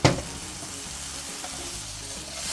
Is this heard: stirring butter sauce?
yes